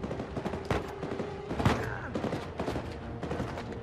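Gunfire in the video game Uncharted 4: A Thief's End, rapid overlapping shots and bursts in a sustained firefight, with sharp cracks and rattling volleys layered over game ambience, fairly loud throughout.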